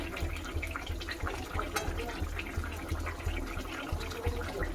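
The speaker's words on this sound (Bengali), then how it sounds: "এবার একটুখানি হালকা করে ফুটুক সেদ্ধ হয়ে যাক মাংসগুলো" Chicken curry with coriander leaves and garam masala simmers gently, a continuous low bubbling and burbling of liquid, faint and close with no talking.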